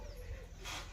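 A dog barks briefly, fairly close, during a loud, noisy outdoor stretch with a burst of broad hiss partway through.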